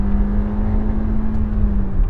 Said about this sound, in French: On part avec 125 chevaux TSI